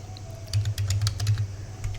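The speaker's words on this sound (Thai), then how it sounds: "แล้วก็ใส่เลขที่โฉนดค่ะ" A land deed number is typed on a computer keyboard as a quick run of close, crisp key clicks over a low steady hum, with no talking.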